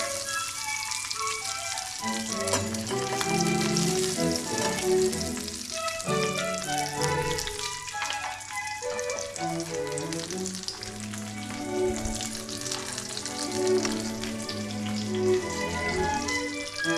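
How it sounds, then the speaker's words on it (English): English muffins toast in butter in a skillet, a steady close sizzle and crackle of frying heard beneath soft classical piano music. "I like to toast my English muffins in a skillet"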